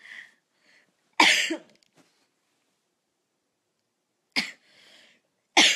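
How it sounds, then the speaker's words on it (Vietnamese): A woman on a livestream coughs in three sharp, separate bursts, the first after a brief murmur and the last two a few seconds apart, loud and close, each followed by quiet. "hiểu sao tự nhiên ho quá trời luôn mọi người"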